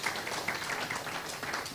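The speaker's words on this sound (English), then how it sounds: "So a thank you and a round of applause to Happy for that." Audience applause at an in-person meeting, a steady patter of hand clapping from a modest crowd, moderately quiet and continuous without voices over it.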